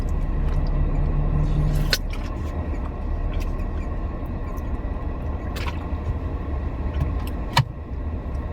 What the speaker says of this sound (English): there's lots of traffic